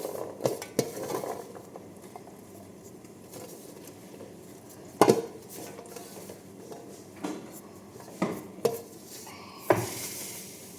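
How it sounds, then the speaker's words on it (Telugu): Salad of red radish, carrot, tomatoes and cucumber tossed in a bowl, soft intermittent clinks and scrapes of a utensil against the dish amid quiet rustling, no speech. "మొత్తం దీంట్లో కలుపుకుంటాం."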